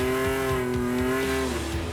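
A car being driven and swerved across loose desert sand, its engine droning steadily with a rising and falling pitch, close and continuous, with a faint scraping rumble beneath.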